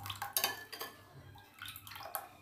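Sago mixture is stirred in a glass bowl, giving faint, close clinks and soft wet sloshing in short, irregular strokes.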